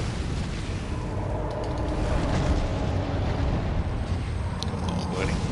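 A boss in the action role-playing game Elden Ring rains down fire, producing a dense, continuous roaring rumble of explosions and flames with crackling bursts on top, steady and loud throughout.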